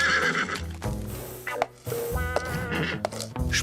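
A cartoon horse whinnies loudly several times in quick succession, close by, with hoof clatter and a busy background mixed in.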